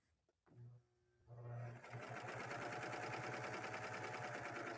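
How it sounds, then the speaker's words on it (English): A Baby Lock serger stitching over wire runs up to a fast, steady mechanical whir with rapid rhythmic needle pulses, close and continuous after a brief start-and-stop at the beginning. "as this comes through, it's just stitching over everything at the same time"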